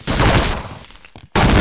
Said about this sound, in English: I don't know where they're shooting us from.